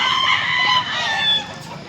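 Chickens and roosters at a poultry market in Mantalungon, Cebu, crow and cluck loudly and close, overlapping calls from several birds filling the short stretch.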